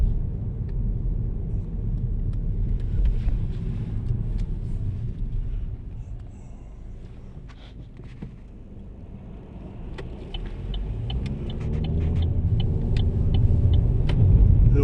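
Car cruising along Lincoln Street in Holyoke, Massachusetts, heard from inside as a steady, loud low road rumble and engine drone that dips briefly midway and then swells again, with no voices.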